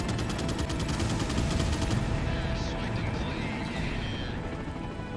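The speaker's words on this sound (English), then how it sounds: "oh, he's shooting someone" Gunfire in the Resident Evil 4 video game, rapid shots rattling over a dense, constant backdrop of game noise and rumble, with talk mixed in.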